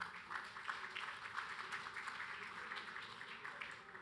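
Conference audience applause, a soft, continuous patter of many hands clapping at a distance, steady and fairly faint for a few seconds.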